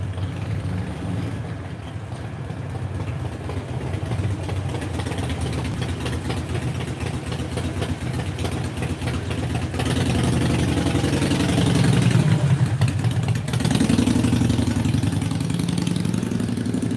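A motorcycle engine idles steadily and close by, a continuous low rumble that grows slightly louder partway through, with no talking over it.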